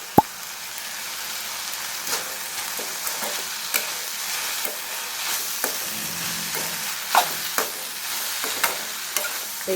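Onion, tomato and grated coconut are stirred in a hot pan for chutney, giving a soft continuous sizzle broken by regular scraping and stirring knocks, close and moderately loud with no talking.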